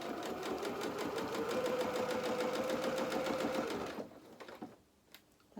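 Sewing machine stitching a seam in doll bloomers: a steady, fast mechanical rattle for about four seconds, close and clear, then stopping into a quiet pause with a few small handling sounds.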